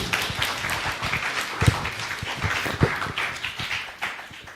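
Audience at a hackathon demo day applauding a presenting team, steady scattered clapping from many hands with a few sharper nearby claps, sustained for several seconds.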